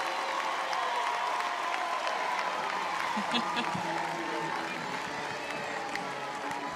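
A softball crowd at an Alabama versus Middle Tennessee NCAA game cheers and claps for a long running outfield catch, a steady wash of applause and shouts with a commentator talking over it.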